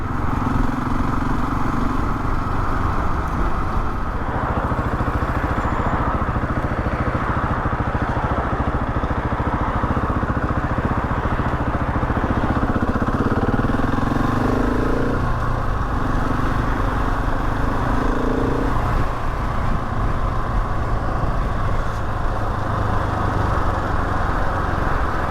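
A Husqvarna 701 single-cylinder motorcycle engine runs steadily while riding, a loud continuous drone with shifting pitch and wind noise throughout, no talking.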